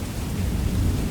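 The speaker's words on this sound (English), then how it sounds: "Outside, the rain intensified briefly." Heavy rain pours steadily with a deep rumble of thunder rolling underneath, a dense, constant wash of sound at close range with no voices.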